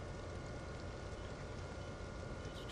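Steady rain falling in Train Sim World 2020 on the Northeast Corridor, a dense, even hiss of drops that holds without pause, close and moderately loud, with a faint low rumble underneath.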